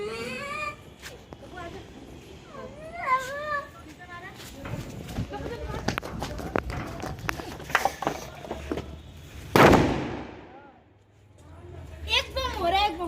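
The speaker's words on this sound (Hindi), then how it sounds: "एक बम हो रहा है, एक बम हो रहा है।" A firecracker bomb bursts once at a festival celebration, a sharp loud broadband crack rising out of a noisy scene of children talking and shouting, followed by a brief lull before voices return.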